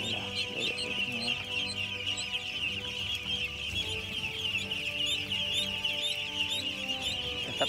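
A crowd of ducks calls busily and continuously while being fed, with dense overlapping quacks and clucking chatter close by and steady throughout.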